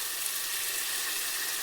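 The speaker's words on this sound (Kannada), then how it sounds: "ಇದು ಎಣ್ಣೆಯಲ್ಲಿ ಚೆನ್ನಾಗಿ ಫ್ರೈ ಆಗುತ್ತೆ ಸ್ವಲ್ಪ" Cooked avarekalu field beans fry in hot oil in a pan while upma is being made, giving a soft, steady sizzle that continues evenly at a moderate distance, with no talking over it.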